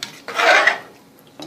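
A metal lid set onto a cooking pot of rice, a short scraping clatter of metal on metal, close and fairly loud, followed by quiet and a faint tap.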